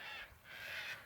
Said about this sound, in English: They have very beautiful birds here. They are quite cackly.